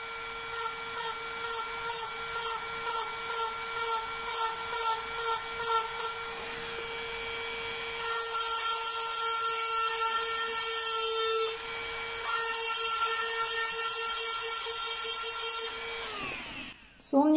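Sunstone being drilled with a small handheld tool: rhythmic short grinding pulses at first, then longer sustained high-pitched drilling bursts with a steady motor whine, close and loud.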